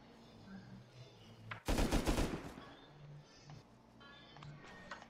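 A burst of automatic gunfire from a gunfight in Rust Console Edition, a loud dense rattle of rapid shots lasting about a second amid a quieter ambient background.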